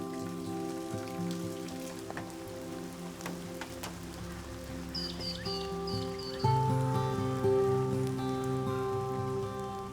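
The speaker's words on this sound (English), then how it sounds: "This is the heaviest April rainfall in this region since records began in 1918." Heavy April rain pouring steadily in the remote Kimberley region, a constant wash of drops on surfaces with faint bird chirps and tonal background sounds mixed in.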